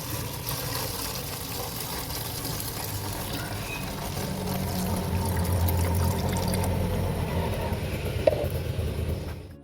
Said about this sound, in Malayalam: വാട്ടറിൻ്റെ കുപ്പിയിലേക്ക് നമ്മൾ ഇത് ഒഴിച്ചു കൊടുക്കുകയാണ്